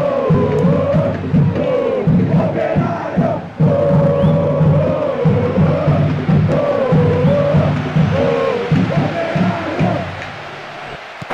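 Stadium crowd noise from a PES 6 football video game match roars as a chant-like swell of many voices, loud and continuous, surging in repeated waves with a brief dip partway through.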